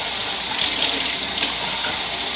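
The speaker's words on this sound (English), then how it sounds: "I get it wet and then I just gently wash the egg. Rinse it." Steady, loud stream of tap water splashing in a sink as an egg is gently washed and rinsed by hand, continuous and close with no talking.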